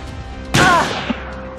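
A single sharp pistol shot in the turn-based tactical game Fallen, a loud sudden crack with a short ringing tail, then a faint thud, fairly close and without voices.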